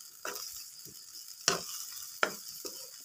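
Canned fish chili paste is stir-fried in a pan, with soft sizzling broken by a few sharp scrapes and clinks of the spatula at irregular intervals, close and moderately quiet, no talking.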